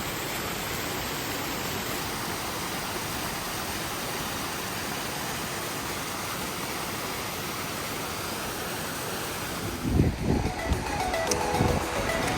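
A rushing mountain waterfall stream near Gaumukh pours over ice-covered rocks, a broad steady roar filling the whole stretch, with louder footsteps and handling bumps near the end.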